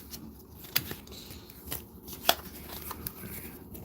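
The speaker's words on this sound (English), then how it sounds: "Shuffle it and put that on the top." Playing cards are shuffled at a tabletop game of Way of the Samurai, giving quiet papery riffles and a few crisp snaps and taps spaced irregularly, fairly soft and close.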